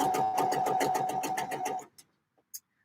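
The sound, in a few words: sewing machine stitching a seam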